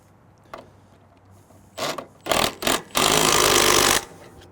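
Bolt being tensioned on a Gen 1 forcible entry door block, a few short scraping, ratcheting bursts that build to one longer grinding stretch near the end, close and fairly loud over a quiet room.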